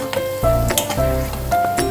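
Eggs frying in a pan for egg masala, a steady crackling sizzle with occasional louder spits and pops, close and continuous with tonal background music underneath.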